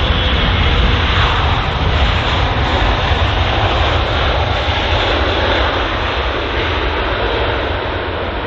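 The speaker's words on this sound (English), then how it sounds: "it's great to hear such large engines roaring just in front of us" Large jet aircraft engines roar close by at London Heathrow airport, a loud, steady broadband rumble with a deep low end that holds unbroken from start to finish, with no voices.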